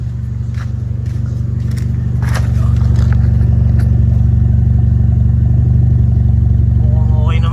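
A car engine idles at about 700 RPM, a loud, steady low hum with an even throb, with faint clicks and taps over it and brief voices near the end.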